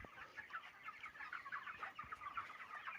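Many chickens cluck and chirp together on a poultry farm, a steady dense chatter of overlapping calls at moderate distance with no talking.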